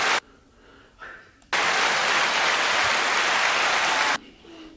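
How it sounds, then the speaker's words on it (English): A burst of applause with many hands clapping at once, dense and steady at fairly close range, running for about two and a half seconds between quieter stretches. "you just want to give them a hand clap"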